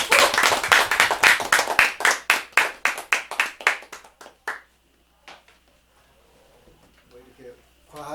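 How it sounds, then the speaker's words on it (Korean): At a traditional Korean music talk concert in a cultural centre, an audience claps in a burst of loud, rhythmic, fairly close hand claps that taper off after about four seconds, leaving quiet room sound and a faint voice near the end. "박수 주세요."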